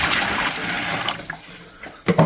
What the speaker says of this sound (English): I just got to add some water.